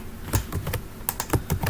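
Python code being typed on a computer keyboard: a run of separate close key clacks, some clustered in quick pairs, with brief gaps between them and no voice.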